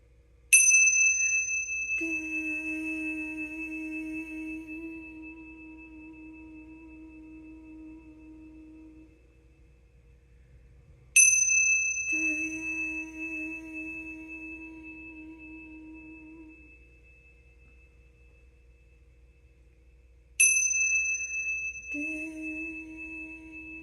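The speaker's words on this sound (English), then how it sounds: "this session with the 3 bells, which may or may not transmit" Three meditation bells struck one after another at long, even intervals, each a bright ring with a clear attack that decays slowly into near silence before the next strike, with no voice over them.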